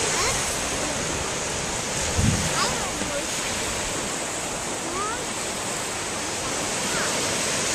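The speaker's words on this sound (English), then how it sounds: "So we're at the beach at Lake Michigan at Covert Park Campground" Waves break steadily on a Lake Michigan beach at Covert Park Campground, a loud continuous wash of surf mixed with heavy wind noise on the microphone.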